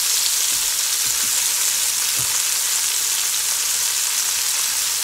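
Salmon, mushrooms, artichoke and other vegetables in a hot skillet, a loud, dense, steady sizzle with a few soft knocks of stirring near the start, no voices.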